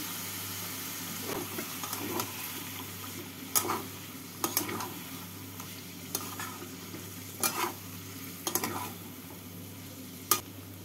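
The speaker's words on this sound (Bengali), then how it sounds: "এবার এর মধ্যে দিয়ে দিচ্ছি আমি থোড়। থোড় দিয়ে মশলার সাথে নাড়াচাড়া করে নেব।" Banana stem being stirred and fried with spices in a pan, soft steady sizzle with periodic scraping strokes of a spatula roughly every second or two, close and moderate in level.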